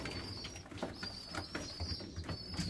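Pigeons coo steadily in a loft holding tipless 2019 birds, including a couple of Shannon-strain birds, with low murmuring calls overlapping close by and faint chirps above.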